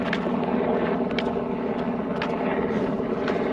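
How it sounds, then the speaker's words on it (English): A helicopter flies overhead above a street with heavy traffic, a steady broad drone blending into the continuous traffic roar throughout. "Also a helicopter flying above our heads."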